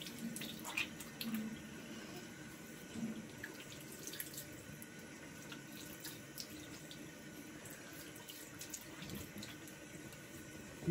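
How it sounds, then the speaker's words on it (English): A bathroom tap runs for a cold water face rinse after shaving, a steady, moderately close stream of water with light intermittent splashing throughout. "I'm gonna do a cold water rinse now."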